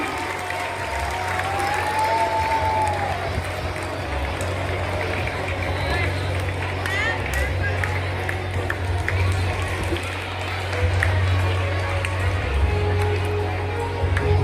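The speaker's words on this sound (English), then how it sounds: "Yes, clap for them, students," Students applaud at a school investiture ceremony as house vice captains receive badges, a steady wash of hand claps from a large group filling the hall, sustained throughout under a low background hum.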